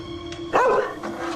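A dog recently adopted into a house gives a single short bark at moderate distance, with a fainter follow-up, over a steady low tonal hum.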